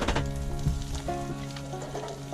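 Beaten eggs poured over Spam, onions and garlic frying in a pan, cooked as a meal aboard a blue-water sailing cruiser, give a close, steady sizzle with a few stirring scrapes and no talk.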